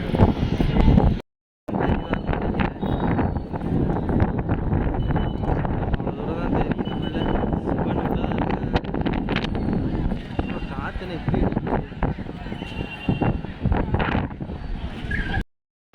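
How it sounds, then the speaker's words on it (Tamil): Strong wind roars and buffets the microphone continuously outdoors, a loud rushing noise with brief gusts. "உங்களுக்கே காற்று சத்தம் கேட்கும்னு நினைக்கிறேன்"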